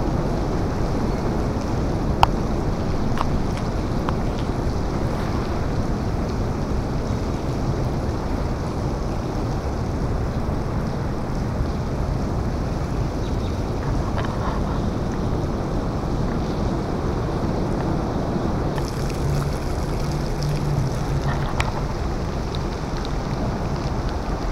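Water rushes steadily at river locks on a rainy day in an abandoned city park, a broad continuous roar with wind buffeting the microphone and no talk.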